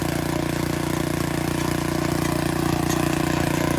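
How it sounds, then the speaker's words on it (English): A tractor fitted with a raised-bed attachment works a field, its engine a loud, steady, close mechanical drone throughout with no talk. "So we have an attachment fitted to the tractor."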